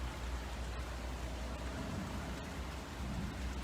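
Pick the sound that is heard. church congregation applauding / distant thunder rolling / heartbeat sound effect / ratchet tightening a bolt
distant thunder rolling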